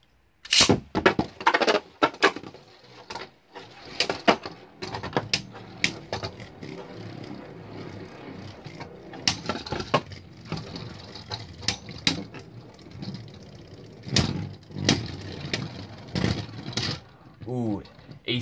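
Beyblade spinning tops clash in a Malphite stadium, with sharp clacking hits and rattling collisions over a whirring spin; a voice talks intermittently over the battle.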